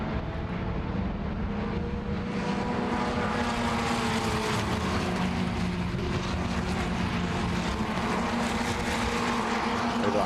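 Formula Renault Eurocup race cars accelerate uphill at the Nürburgring, a steady, dense engine roar that holds loud and continuous throughout.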